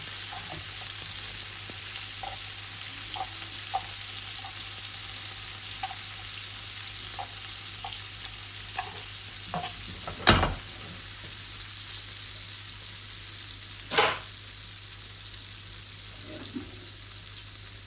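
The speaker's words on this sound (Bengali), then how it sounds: "মাছ ভাজিয়া না দিলে মজা লাগতো না।" Koi fish frying in a pan of hot oil, a steady soft sizzle running throughout with small pops and crackles, plus a couple of sharp louder clatters near the middle and later.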